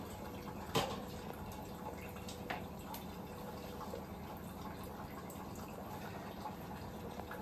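Quiet, steady trickle of tap water running and filling a container indoors, with a couple of faint knocks and no talk.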